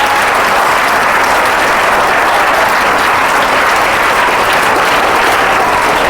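A school audience of students gives loud, dense applause, a steady roar of many hands clapping close by for the full stretch, with no talking over it.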